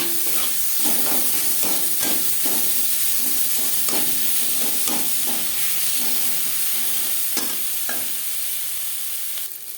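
Tomatoes frying with onions in a pan, a continuous loud sizzle with repeated scraping stir strokes throughout.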